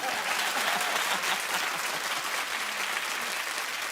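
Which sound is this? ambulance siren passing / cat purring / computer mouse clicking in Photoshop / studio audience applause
studio audience applause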